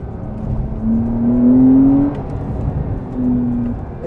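A 2020 Porsche Carrera 4 (992) accelerates with a rising engine note that climbs, breaks off at a gear change and then rises again, heard from inside the car at moderate loudness without speech.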